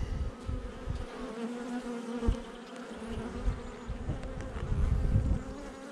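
Honeybees buzz in a dense, steady drone at an opened hive being worked with smoke, close and continuous with slight swells in loudness and no talking.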